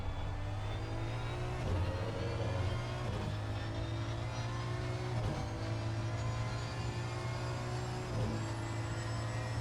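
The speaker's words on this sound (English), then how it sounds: "we'll jump on board to get some sounds from this Aston Martin" An Aston Martin V12 race car engine in a racing game roars steadily from onboard at the Nordschleife, its pitch dropping briefly at several gear shifts before climbing again; loud, no voices.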